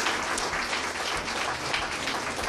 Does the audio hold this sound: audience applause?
yes